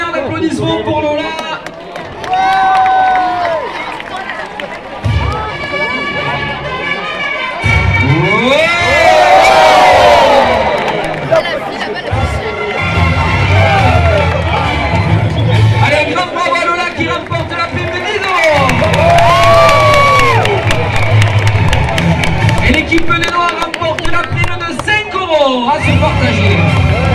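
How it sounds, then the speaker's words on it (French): Large outdoor crowd cheering, shouting and applauding for a participant at a Camargue-style bull game in St. Chaptes, a loud continuous roar with whoops and yells, an announcer's amplified voice heard over it at times. "je demande un tonnerre d'applaudissements pour Lola."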